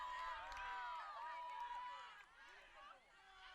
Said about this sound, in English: You can hear the crowd here.